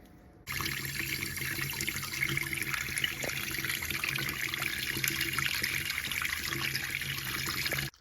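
Warm water runs steadily from a tap while parts of a 1990s Sony TV remote are cleaned, starting abruptly and holding a constant, close hissing flow until it shuts off.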